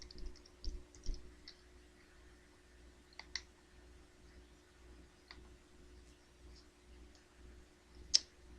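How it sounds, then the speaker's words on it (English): Someone types on a computer keyboard with one hand, producing faint, sparse key clicks in uneven bursts over a quiet background hum. One sharper click stands out near the end. "trying to type with one hand and hold the mic with the other"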